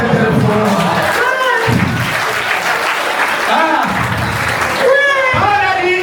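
Guests at a wedding dinner clap hard and steadily in a loud, close burst of applause from a big crowd that fills the whole stretch, with a voice speaking over it.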